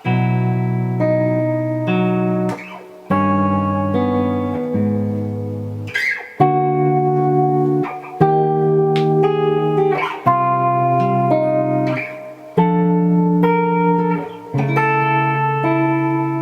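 Clean electric guitar strums a slow progression of sustained chords, each ringing for a beat or two before changing, played alone with a touch of reverb.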